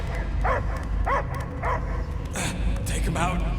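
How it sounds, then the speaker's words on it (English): A dog in the video game Marvel's Guardians of the Galaxy lets out a series of barks and yelps, roughly five close, spaced calls over a busy game soundscape. "I hear only barking"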